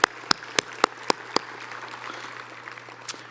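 Applause at an alumni awards event: a short burst of loud, sharp hand claps up front that quickly thins into scattered, fainter clapping and room murmur.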